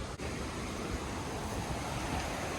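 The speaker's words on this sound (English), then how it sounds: "It's just some random unnamed waterfall." An unnamed waterfall in Cape Breton, Nova Scotia, heard as a steady, dense broadband rush of falling water, constant and close with no breaks.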